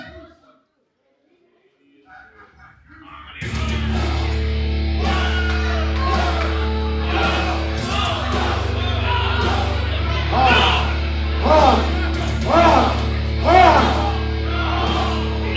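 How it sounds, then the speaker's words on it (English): A wrestling crowd at an Ignition Professional Wrestling show honks like geese in repeated rhythmic bursts of shouting. The sound rises loud and full over a steady arena rumble after a quiet start. "You might be able to hear the crowd in the background honking."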